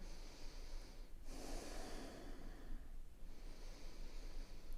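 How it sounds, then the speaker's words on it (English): Slow ujjayi breathing during a seated chair yoga flow: a soft, hissing, ocean-like inhale and exhale, close and steady, with a brief pause between long airy breaths. "Keep that Ujjayi breath going."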